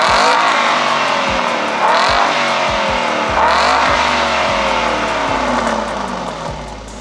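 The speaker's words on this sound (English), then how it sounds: "Let's get some revs of it once the pipe's been fitted." BMW 420D mild hybrid with secondary cat delete exhaust revving repeatedly up close, engine rising in pitch with each blip and dropping back between pulls.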